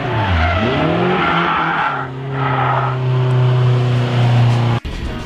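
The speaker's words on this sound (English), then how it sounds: "Let's see cars go sideways." At a drift event, cars slide sideways with loud, sustained tire squeal over revving engines whose pitch swoops and then holds, ending in an abrupt cutoff.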